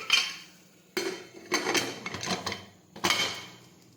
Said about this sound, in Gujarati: હવે આપણે કુકરનું ઢાંકણ છે તે બંધ કરી દઈશું.